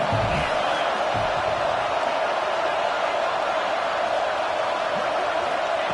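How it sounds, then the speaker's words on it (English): A football stadium crowd at a Notre Dame versus Michigan game roars as one continuous, loud wall of noise on third down. "Decibels rising as the crowd gets behind this defense on third down."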